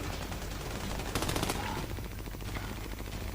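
Rapid automatic gunfire bursts in the video game Army of Two, a dense, loud rattle of repeated shots over a constant background of game noise and effects.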